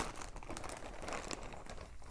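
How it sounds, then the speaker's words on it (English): Plastic packaging around a skein of yarn crinkles and rustles continuously and fairly close, a steady crackly handling sound with no talk. "sorry about the crinkling"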